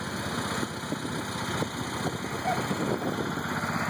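A John Deere 216 lawn tractor engine runs at a steady idle, a close, even mechanical chug with constant rhythm throughout and a faint voice briefly in the background.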